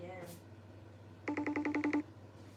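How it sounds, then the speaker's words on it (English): A FaceTime video call rings on a phone as a short burst of rapid, evenly spaced electronic tones, clear but not loud, following a brief voice at the start. "I will FaceTime again."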